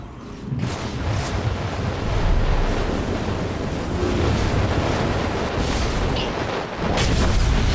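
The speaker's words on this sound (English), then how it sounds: "Big explosion." A heavy, sustained roaring blast fills the space, like a large explosion in Star Wars: The Old Republic, with rumbling low-end debris continuing throughout.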